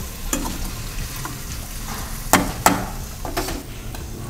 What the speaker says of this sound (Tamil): ஆனால் ஸ்லோ ஃப்ளேமில் வச்சுட்டு நல்லா வதக்கிடலாம்.